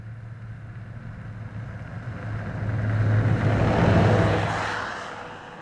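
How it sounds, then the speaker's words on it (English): Over-snow vehicle engine running in Yellowstone, a steady mid-pitched drone that swells louder as it passes close around the middle, then fades slightly, with no voices. "the effects of over snow vehicle noise on the park"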